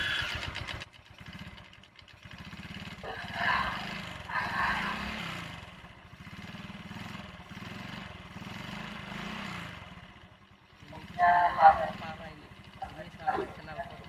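Motorcycle engine starting and settling into a steady idle, fairly quiet and slightly distant, with people talking over the running engine.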